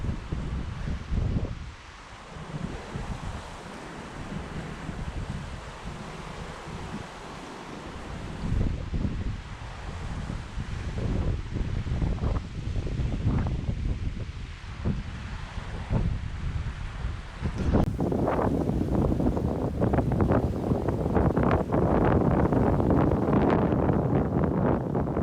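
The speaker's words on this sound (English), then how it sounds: "And here is the Gulf of Mexico. Choppy and windy." Strong wind buffets the microphone beside the choppy Gulf of Mexico in Florida. Waves and surf roar steadily underneath, with the gusts growing louder and rougher toward the end.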